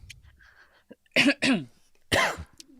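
Three sharp, harsh coughs from a months-long cough, close to the microphone, the first two in quick succession and the third after a short pause, with faint breathing between.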